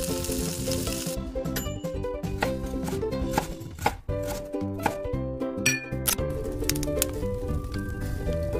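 Fish rubbed with salt, chilli powder and turmeric fries in smoking-hot mustard oil in a wok, giving a loud continuous sizzle broken by sharp crackles and spatters, with no talking.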